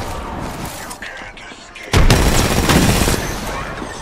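A grenade blast and a burst of gunfire in the battle-royale game Apex Legends hit suddenly and loud halfway through, over a noisy backdrop of earlier muffled shots, with dense rattling fire continuing to the end.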